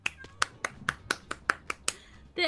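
Sharp hand claps fall in a quick, even rhythm, about ten of them, spaced close together and heard near and alone without talk.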